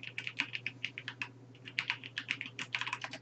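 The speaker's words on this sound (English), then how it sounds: "are you typing in jobs.blizzard.com?" Rapid, irregular clacking of keys on a computer keyboard, close and fairly quiet, with a short pause midway before the typing resumes in quick bursts.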